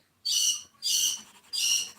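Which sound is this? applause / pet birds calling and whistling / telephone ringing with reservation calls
pet birds calling and whistling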